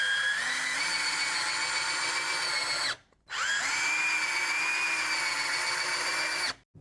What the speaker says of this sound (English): I would expect to easily be able to drive these screws in here because again, this is a 12 volt and it says 550 inch-pounds of torque